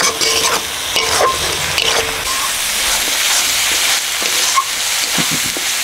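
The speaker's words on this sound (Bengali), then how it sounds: "মশলা কষানো হয়ে গেছে" Whole spices (dried red chillies, bay leaves, green and black cardamom, cinnamon) fry in a pan for handi chicken, giving a loud, continuous, close sizzle with constant scraping and stirring.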